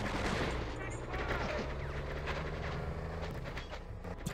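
Military gunfire in the game Conflict: Desert Storm, with dense rapid bursts of machine-gun shots rattling continuously over a low rumble, loud and sustained across the moment.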